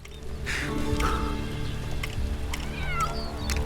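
A cat meows in Lego Marvel Super Heroes 2, a few short mewing calls over steady game music and ambience, with no talk.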